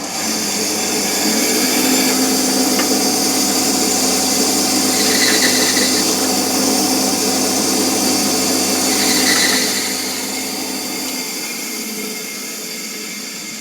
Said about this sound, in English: The next thing I'll be doing was cutting with the bandsaw across in the end